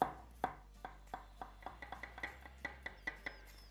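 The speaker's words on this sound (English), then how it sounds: "I like to just run my knife through it like this, straight into there, and then some slices of cucumber" A knife slicing cucumber on a cutting board, a steady run of about a dozen close, crisp chops at an even rhythm, quiet overall with no voices.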